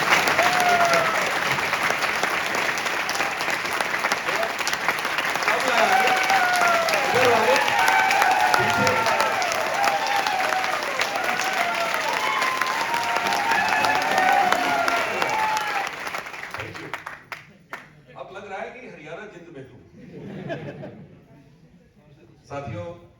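A seminar audience applauding, dense sustained clapping from many hands that fills the room, then thins out and breaks into scattered claps and voices near the end.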